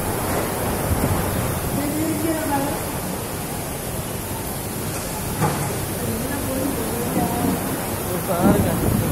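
Strong wind during heavy rain in Melpuram, Marthandam: a dense, unbroken roar of rushing air and downpour, loud and continuous throughout, with faint voices underneath.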